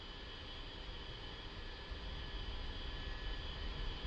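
An A-10C jet in the DCS flight simulator taxiing to the runway, its engines a steady, broad roar with a low rumble that swells slightly toward the end, with no voices.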